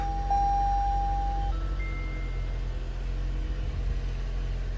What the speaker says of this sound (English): So we're gonna start the car.